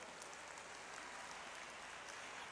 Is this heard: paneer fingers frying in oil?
no